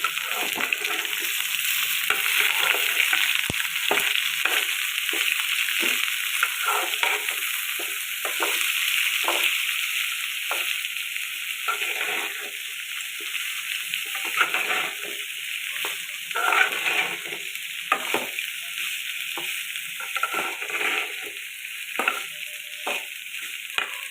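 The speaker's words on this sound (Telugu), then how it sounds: "బాగా వేగితే అప్పుడు ఆ కాకరకాయ వేసుకోవాలి ఇవేనా ఆ కాకరకాయలు వేస్తాను" Sliced bitter gourd fries in a pan while being stirred, a steady sizzle broken by frequent scraping stirs and clatters throughout, close and fairly loud with no talking.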